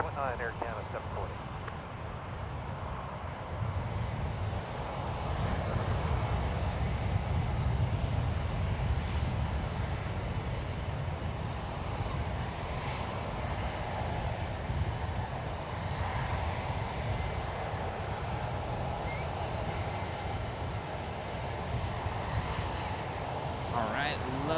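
GEnx engines roar as an Air Canada Boeing 787 Dreamliner departs San Francisco International Airport, a long, steady, distant rumble with air traffic control radio chatter over it.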